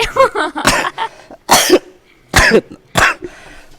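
Several sharp coughs come in separate bursts, close to the listener, with short pauses between them and a brief voiced sound at the start.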